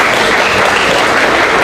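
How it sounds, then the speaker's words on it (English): Parents at a sensory storytime event clap for a group of people, a dense, loud burst of steady applause filling the room without pause. "Parents, please clap for these people."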